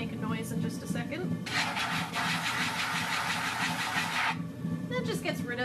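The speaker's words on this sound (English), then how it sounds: "I use the short part of this wooden rib and just scrape, so this can make a noise in just a second" A wooden rib scrapes leftover clay off the bottom of a pottery wheel bat in one loud, steady, gritty rasp lasting a few seconds, with a person talking just before and after.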